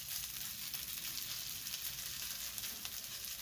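Grated potato rösti frying in a skillet, a soft, even sizzle crackling steadily and fairly quietly throughout.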